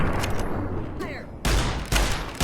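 Gunfire in Fallout New Vegas: two sharp, loud shots with a noisy tail, separated by a quieter stretch, with no voice over them.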